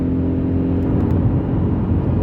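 A 2020 Vauxhall Crossland X accelerating hard in third gear at 4,500 RPM, heard from inside the cabin as a loud, steady engine drone with a constant rumbling hum and no breaks.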